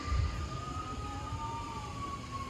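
Police and fire sirens wail at a distance near a reopened Florida beach, a faint rising and falling tone that drifts steadily over low rumbling wind and outdoor background noise.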